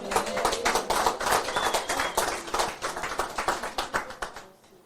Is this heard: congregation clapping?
yes